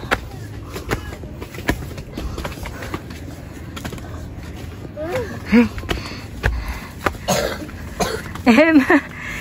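A young child coughs in several short, rough bursts with sniffs and throat clearing during an outing at Hundred Islands, amid people talking and scattered outdoor noise.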